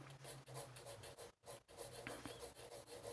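An ordinary HB writing pencil shading lightly across paper, a soft close rasping scratch in quick back-and-forth strokes with a brief pause midway.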